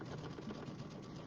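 A sewing machine stitches with monofilament thread during quilt block assembly, giving a steady, even mechanical whir that runs without pause at moderate loudness.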